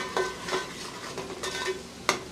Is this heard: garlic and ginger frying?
yes